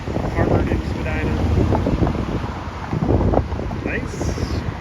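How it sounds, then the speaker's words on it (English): Gusting wind buffets the microphone on a sunny city walk in Toronto, a heavy low rumble that surges and eases, with faint traffic and street sounds underneath. "Just a bit windy."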